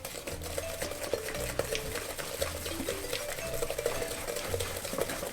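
Egg gets beaten into sugars in a bowl for sesame cookie dough, a quiet, rhythmic scraping and tapping of a utensil against the bowl repeating steadily, with faint room noise.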